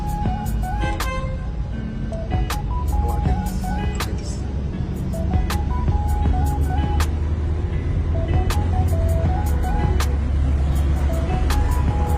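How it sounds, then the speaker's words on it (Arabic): A limousine driving on the road, a steady low engine and road rumble with clicking and tonal sounds over it, while people talk inside the car. "ايه رايكم في الليموزين وايه رايكم في العربيه والسكه"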